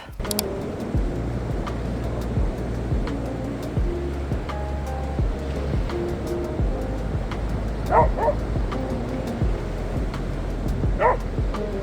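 A puppy barks and yips repeatedly outdoors against a steady wash of wind or distant surf, with sharp bursts scattered throughout and occasional whimpers.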